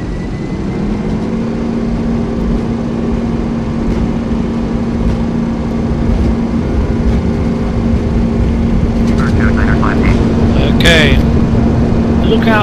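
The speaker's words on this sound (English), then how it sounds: "Alright, strobes on, landing lights on. And we have takeoff clearance." Small airplane engine at takeoff power, a steady droning hum with a strong constant tone that holds loud and even throughout, with a few brief higher chirps near the end.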